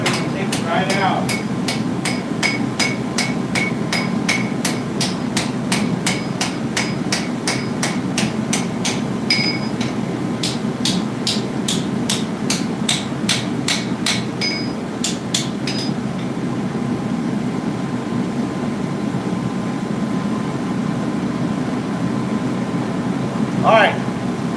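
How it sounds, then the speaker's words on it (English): Steady, rapid hammer blows ring on hot metal at a forge while a spoon is shaped, a long even series of sharp strikes that pauses and then resumes once, over a constant low hum, with a voice talking. "hammer on the back side of it and take it right out."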